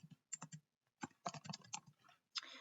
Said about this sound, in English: I'm going to type the totals just now.